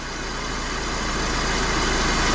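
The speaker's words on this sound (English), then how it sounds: "Engine speed at idle 835." Mercedes-Benz Vito van engine idling at about 835 rpm, a loud, steady, close mechanical drone with no talking.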